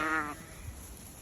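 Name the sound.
sheep bleating while let out to graze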